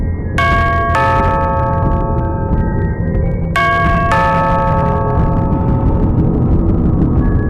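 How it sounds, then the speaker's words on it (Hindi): A two-tone doorbell chimes ding-dong twice, with a pause of a few seconds between the pairs, each chime ringing out clearly over a steady low background hum. "साथ ही कानों में डोरबेल की आवाज"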